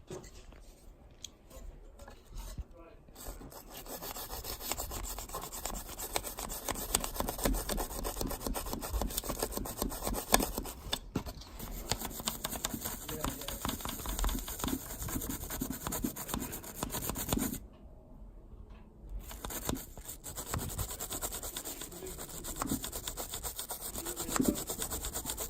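Scrubbing on a dirty Macintosh Classic II logic board around its capacitors, a close, continuous rapid brushing rasp with brief pauses, steady and fairly quiet.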